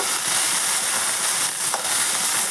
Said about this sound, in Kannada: ಹಸಿಮೆಣ್ಸಿಕಾಯಿನ ಚೆನ್ನಾಗಿ ತೊಳೆದು ತುಂಬೆಲ್ಲ ತೆಗೆದು ಒಂದೆರಡು ಸ್ಪೂನಷ್ಟು ಎಣ್ಣೆ ಹಾಕಿ ಹುರ್ಕೋಬೇಕು